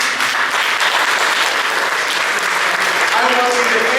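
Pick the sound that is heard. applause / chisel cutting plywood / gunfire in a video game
applause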